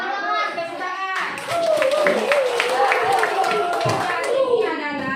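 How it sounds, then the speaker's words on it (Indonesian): A classroom group claps hands in a quick, lively burst of many overlapping claps, with children's voices and chatter mixed in, following a teacher's brief spoken prompt. "Ya, tepuk tangan."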